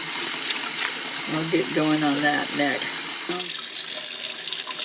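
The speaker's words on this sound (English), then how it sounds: "it says to rinse them in cold water and then open them up and run warm water through them" Tap water runs steadily from a faucet into a sink while being flushed through sausage casings for medisterpølse, a continuous splashing rush with a person speaking briefly over it.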